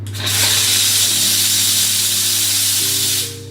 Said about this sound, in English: press plus the steam pressure one time before you steam it